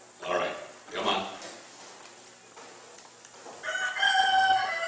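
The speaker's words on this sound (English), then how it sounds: "I can swear that sounds like a rooster." A rooster crows several times out in a quiet, misty field, the calls moderately distant and separated by pauses, with a sustained harmonic crow near the end.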